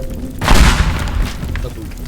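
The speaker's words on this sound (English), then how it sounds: "It's time to blow one more thing up." A propane-fuelled explosion goes off in the video game Teardown. A single loud, deep boom bursts out and then rumbles away over the next second or so, with a voice faintly present.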